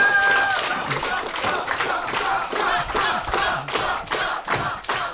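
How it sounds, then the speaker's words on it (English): Audience at a Bugglebots 2019 robot combat event applauding and cheering after a dung beetle melee, a loud crowd roar with rhythmic clapping and thumps, a voice briefly heard over the start. "Can we have a round of applause?"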